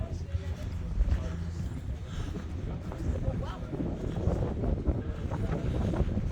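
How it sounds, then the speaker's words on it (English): Steady breezy wind rumbles and buffets the microphone outdoors at Alcatraz, filling the whole stretch with continuous low roar. "It's a little breezy, but it's gorgeous out here"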